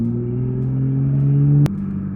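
A fast car accelerates hard from inside, engine note climbing steadily in pitch and loudness, then a sharp shift cuts the tone and it drops lower to continue.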